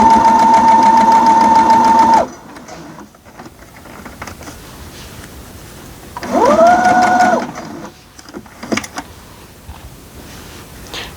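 A sewing machine stitches a quilt block in two bursts: a steady fast mechanical whir for about two seconds, a pause with faint handling sounds, then another short run of stitching.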